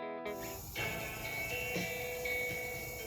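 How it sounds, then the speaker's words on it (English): A Gakken record cutter's needle vibrates as it plays music fed from an iPhone, giving a thin, tinny, steady tune with sustained tones over a constant background hiss, starting after a brief silence. "what you're hearing is actually the needle vibrating"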